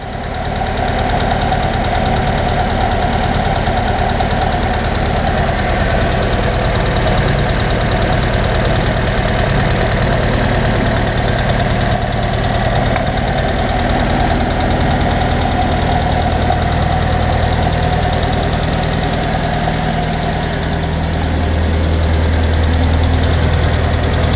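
A 1931 Ford Model A Town Sedan engine with a new head gasket runs steadily at half throttle, a loud, even mechanical drone with a constant low rumble that continues unbroken for the whole stretch and has no voices over it.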